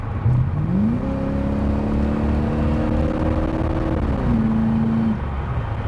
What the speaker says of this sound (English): Let's do a manual downshift.